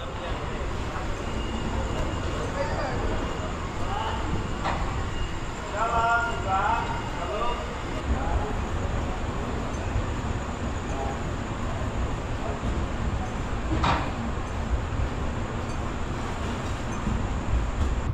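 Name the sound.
Jnaneswari Express train departing Shalimar station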